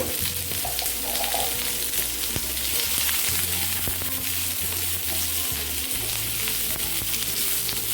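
Onion and garlic fry in a pan for homemade pizza sauce, a dense close sizzle and crackle with occasional stirring scrapes, under a low steady hum, with no one talking.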